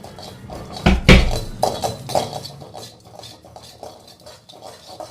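Dried curry leaves being roasted in a pan for idli podi, with a sharp clattering burst of metal utensil against pan early on, then lighter scraping stirs and rustling, close and with no talking.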